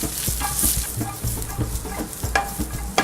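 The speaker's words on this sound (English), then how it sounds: "I'm gonna start by adding both my kabocha squash and my onions. These are gonna take the longest to cook." Kabocha squash and onions frying in a pan, a close, steady sizzle broken by repeated scraping stirs and light knocks of a utensil, with no talking.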